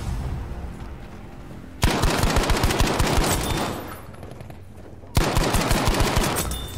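Rapid machine gun fire in the World War II shooter Battlefield V, two loud sustained bursts of fast repeating shots close by, separated by a short lull with distant rumble.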